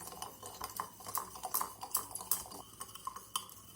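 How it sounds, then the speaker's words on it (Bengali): A hand whisk works powdered sugar into an eggless Christmas fruit cake batter, giving a steady run of quick light clinks and taps against the bowl, close by and moderately quiet, with no voices. "এখন একটা হ্যান্ড উইসের সাহায্যে আমি ভালো করে মিশিয়ে নেব"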